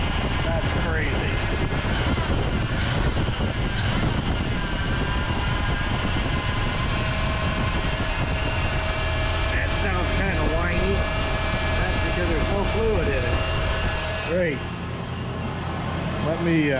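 Engine of a car wrecked and left sitting for 20 years, idling steadily and fairly loud throughout with faint speech over it, before cutting off near the end.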